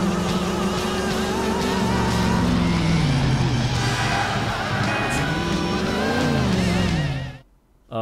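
A car races against a helicopter in GTA IV: The Ballad of Gay Tony, engine roaring loud and steady with rising and falling revs for several seconds before cutting out abruptly near the end.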